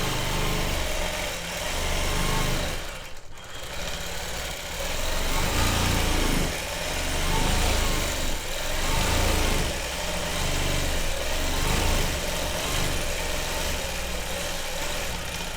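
A quilting machine runs steadily while stitching a ribbon candy motif on a quilt, a continuous motor-like whir with slight surges and one brief dip, no talking.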